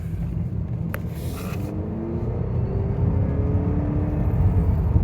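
A 2022 Honda Accord Sport hybrid accelerating, heard from inside as a steady low engine and road rumble that rises slightly with faint whirring, with no talking.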